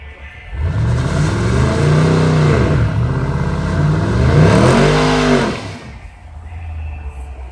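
A race car with an aftermarket exhaust accelerates past on a track at Union Grove, its loud engine note rising and falling through two surging gear pulls before fading away, with no talk over it.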